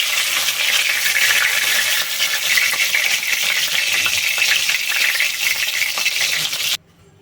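Loud, steady hiss and crackle of soybean chunks frying lightly in hot oil for several seconds, close up, then it cuts off abruptly near the end.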